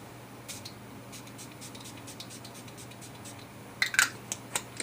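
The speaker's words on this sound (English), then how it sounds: "Always finish with a spritzer of some kind." A makeup finishing spray is spritzed over a freshly made-up face in a few short, soft hissing bursts near the end, after a stretch of quiet room tone with faint handling ticks.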